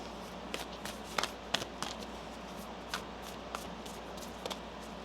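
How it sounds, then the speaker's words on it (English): Tarot cards are shuffled by hand in a quiet room, producing soft repeated riffling flicks and taps at an uneven rhythm, close and fairly faint. "One more shuffle."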